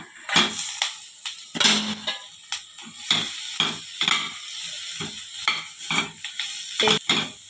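Mashed potato is stirred into masala in a pan, a utensil scraping and knocking against the metal in irregular bursts, fairly close and moderately quiet with a faint sizzle beneath.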